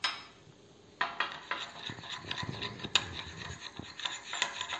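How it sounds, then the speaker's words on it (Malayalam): A spoon mixes turmeric powder into a paste in a small dish, making rhythmic scraping and rubbing strokes with light clinks against the container, close and fairly loud. "എന്നിട്ട് നമുക്ക് നന്നായിട്ട് മിക്സ് ചെയ്യാം."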